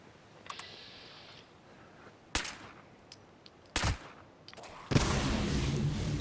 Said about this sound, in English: A radiation pulse will happen.